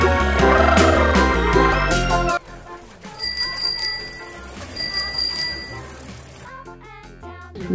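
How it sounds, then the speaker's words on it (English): A bicycle bell gives several bright, ringing dings in quick groups, clear and close, following a stretch of music. "Bicycle."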